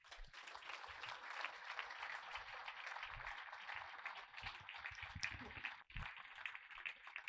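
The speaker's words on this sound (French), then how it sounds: "On peut applaudir bien fort Justine Le Satini." An audience applauds at a New Year's greetings ceremony in Roquebillière, honoring a young footballer; steady, dense clapping fills the whole stretch at a moderate distance, with a brief dip near the end.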